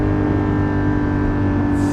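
A Porsche 718 GT4 engine drones loud and steady for about two seconds, a sustained rev with no voices over it.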